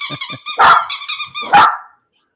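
Dogs bark loudly and close by, several short yips leading to two strong barks before falling silent.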